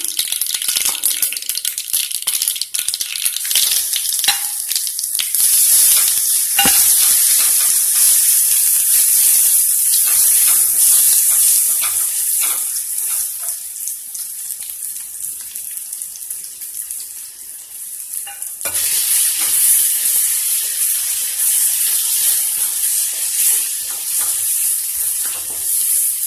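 Garlic paste frying in hot oil over low heat for a garlic pickle gives off a loud, steady, bright sizzling hiss that runs unbroken for the whole stretch, with no voices over it.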